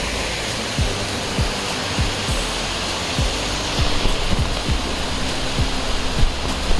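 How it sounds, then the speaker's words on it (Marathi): Waterfall water rushing down a mountainside and under a bridge on the trek to Tiger's Nest Monastery in Paro, Bhutan: a steady, loud broadband roar that continues throughout, with faint footsteps or knocks recurring over it. "तर खालीपर्यंत मला वाटतं की तो पाण्याचा आवाज आहे ना तो खालीपर्यंत आपल्याला ऐकायला येतो."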